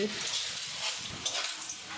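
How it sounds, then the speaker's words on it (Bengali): Papad deep frying in hot oil at home gives off a continuous broad hissing sizzle that holds at an even level throughout, fairly close. "আমার বউ এখন পাপড় ভাজতেছে"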